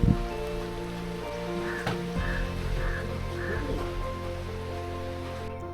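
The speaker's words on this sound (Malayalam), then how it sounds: "വന്നു കയറിയപ്പോൾ തന്നെ നല്ല മഴ തുടങ്ങി" Steady rain pours down in a continuous, fairly loud hiss that keeps going without a break, at a forest watchtower in Periyar Tiger Reserve.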